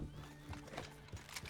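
In the video game Red Dead Redemption 2, horses whinny and their hooves clip-clop, quiet and slightly distant, with a faint ambient hum underneath.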